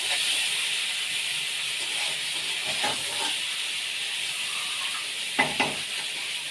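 Boiled potatoes fry in a little oil, giving a steady soft sizzle and hiss, broken by a few sharper clinks and scrapes of stirring near the end.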